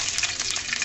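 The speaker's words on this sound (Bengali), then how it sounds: "রসুনগুলোকে সুন্দর করে লাল লাল করে ভেজে নিব।" Garlic frying in a little soybean oil in a pot, a steady close crackle and hiss with faint stirring clinks running through it.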